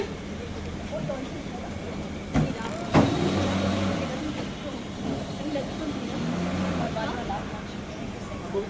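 On an outdoor shoot for a TV serial, a car engine idles and rolls forward at close range while people talk over it, with a couple of sharp knocks partway through.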